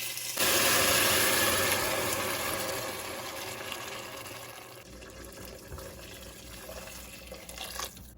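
Water runs steadily into a cooking pot in a home kitchen as it is added to a tomato-paste dish, loud at first then easing to a quieter flow, with no talking.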